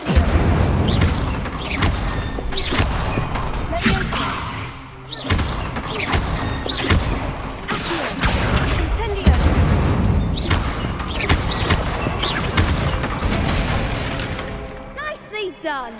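Incendio fire spell cast in Hogwarts Legacy: repeated loud booming bursts and crackling fire blasts in quick succession across the whole stretch, with voices talking underneath at times.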